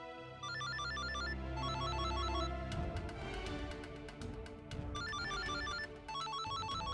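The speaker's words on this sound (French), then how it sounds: "Allez, vas-y, réponds au téléphone." Telephone in an office, rendered in an Indian drama dubbed in French, ringing in repeated bursts of rapid electronic trilling, with pauses between rings over a low musical background; no talking.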